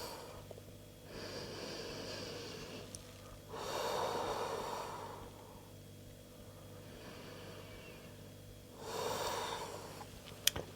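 Slow breaths during a yoga forward fold, with audible airy exhales swelling and fading in long waves separated by quiet pauses. The breathing is close and soft, with no talk.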